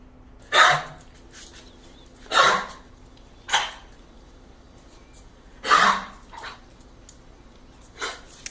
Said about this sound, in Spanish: Eso es una tos en el perro.